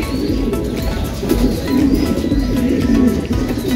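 Racing pigeons cooing in a loft, soft low throaty coos repeating over a dense background of birds and faint flapping, continuous and close.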